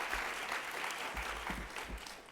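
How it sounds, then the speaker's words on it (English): Quiet, steady audience applause at a talk on epilepsy and brain health, a soft wash of clapping heard at a distance with no speech over it. "So let's give them another round of applause."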